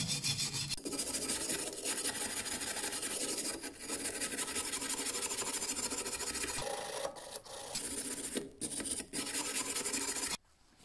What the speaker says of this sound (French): Une fois que tu as mis ton coup de brosse métallique